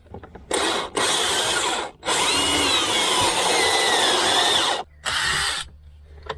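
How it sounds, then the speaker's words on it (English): A power drill bores a hole in the body of a 2016 Land Rover Discovery 4 SDV6, close and loud, in three sustained bursts of whining drilling separated by brief stops. "All I gotta do now is drill a hole in."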